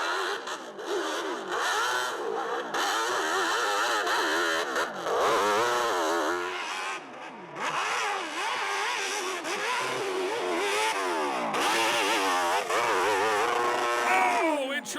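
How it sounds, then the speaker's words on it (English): A nitro-burning, supercharged drag racing motorcycle revs and roars loudly and continuously, with a commentator talking over the engine throughout. "Harold Waddell, you can hear this one. It sounds like it's on nitro"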